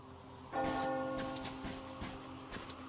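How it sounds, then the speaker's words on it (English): A large bell tolls in the Metro Exodus video game, a strong resonant strike at about half a second followed by a long ringing decay with fainter later strikes, no talk over it. "Hear that bell?"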